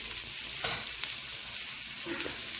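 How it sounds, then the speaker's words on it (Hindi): Onions fry in a spoonful of oil for mutton korma, a steady close sizzle with a couple of soft stirring scrapes and clinks against the pan. "हमको अनियंस तब तक फ्राई करना है जब तक ये कैरमलाइज ना हो जाए"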